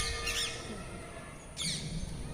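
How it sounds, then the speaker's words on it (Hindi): Pigeons at a Shiva temple in South India give two short bursts of cooing and flapping-like calls over steady outdoor background noise, moderately close and fairly faint. "ये भगवान शंकर का मंदिर कबूतरों का निवास भी है।"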